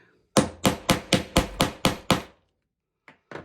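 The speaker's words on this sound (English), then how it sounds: "The bigger your hammer, the less you have to smash." A hammer smashes down on a tool at a craft display for vendor and scrapbooking events, landing eight loud, evenly spaced blows close up, then a pause and a few lighter strikes at the end.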